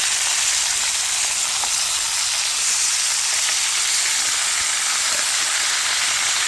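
Washed poha added to fried potatoes in a pan sizzles loudly and steadily, a close, constant hiss with no other sounds.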